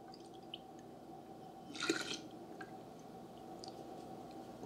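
Warm water goes into a jar of sourdough starter in a short, splashy gush near the middle, set against a quiet low hum with a few faint drips and no speech.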